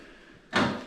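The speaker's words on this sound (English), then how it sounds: "Now, try to open that door." A broken door on a worn Honda Civic EK coupe pops open with a single loud mechanical clunk and rattle, close by, following a quiet stretch of low background noise.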